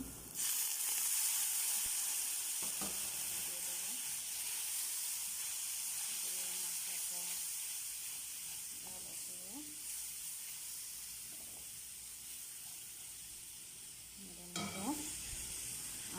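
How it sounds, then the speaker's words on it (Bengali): Half-cooked onion fries with added spices in a pan, with a steady, fairly faint sizzle and hiss and occasional clinks of stirring, louder near the end. "এই যে পেঁয়াজটা আমি নেড়ে নিয়েছি অর্ধেক সেদ্ধ হয়ে গেছে তো ওর ভিতরে আমি মশলা দিয়ে দিলাম"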